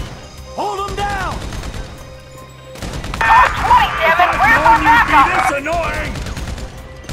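Gunfire in a Grand Theft Auto V story-mode shootout: dense bursts of shots crackle and pop through the middle of the clip, loud and close, with a voice talking over the start and during the firing.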